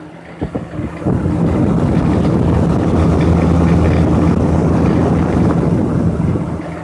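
A small drum fan whirs steadily after a brief click and spin-up, its airy rushing drone constant and close, with no voices.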